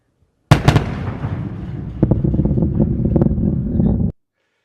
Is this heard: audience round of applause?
no